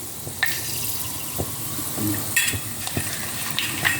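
Fenugreek seeds fry in hot oil for a Tamil sundaikai vatha kuzhambu, a close, steady sizzle dotted with scattered sharp crackles and pops.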